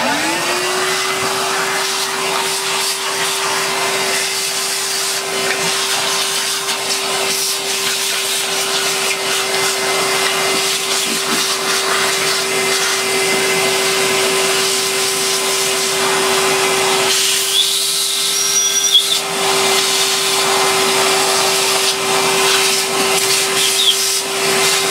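A Sebo Automatic X4 Boost upright vacuum cleaner runs steadily and loudly with a constant motor whine and airflow roar, its pitch rising briefly as it starts and staying even throughout, with no talking.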